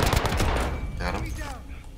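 Rapid bursts of automatic gunfire in a shooter video game, loud and close, crackling in quick succession then tapering off into scattered distant shots.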